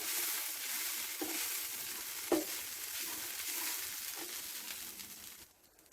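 Chicken and masala for chicken kappa cutlets being stirred in a pan, with a steady close hiss of frying and a few soft scraping knocks, before the sizzle drops away at the end.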